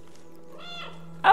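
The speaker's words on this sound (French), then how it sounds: "Ah, ça miaule!" A cat in the video game Stray gives a single clear meow with a rising then falling tone over a faint steady hum, followed by a brief louder noise burst at the end.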